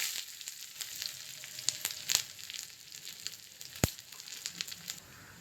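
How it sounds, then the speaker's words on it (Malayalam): Chopped onion fries in coconut oil after mustard seeds have popped for a Kerala-style curry tempering, a soft, fairly faint crackling sizzle with scattered sharp pops and ticks. "അരിഞ്ഞു വെച്ച ഉള്ളി ഇട്ട് കൊടുക്കുക."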